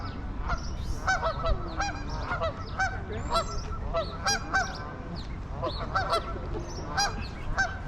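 Canada geese honk repeatedly and loudly, a flock's overlapping calls in an irregular rhythm over a low outdoor background in Calgary.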